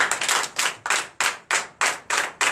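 A church congregation at a Sunday worship service in Benin claps in unison in acclamation, eight sharp, evenly spaced group claps in a steady rhythm, close and clear.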